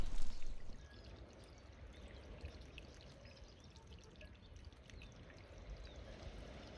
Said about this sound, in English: here you are with a perennial stream with that water still, fresh water, still flowing